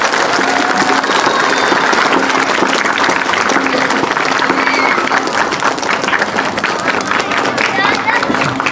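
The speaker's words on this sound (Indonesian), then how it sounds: "Mari kita tepuk tangan untuk santri yang ada di seluruh dunia." Audience applause at a pesantren graduation celebration, a loud dense wash of clapping from a large crowd that fills the whole stretch, with voices mixed in.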